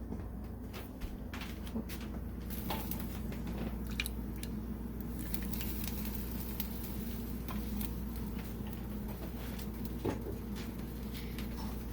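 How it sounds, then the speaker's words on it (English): Chocolate cake batter being stirred in a bowl with a spoon, giving a steady, quiet, wet squishing and scraping texture broken by faint scattered clicks, with no talking. "Okay, so I'm stirring this in."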